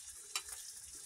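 Chicken curry frying and being stirred in a pot on a winter night, a steady soft sizzle with a brief scrape of the spoon, close and alone.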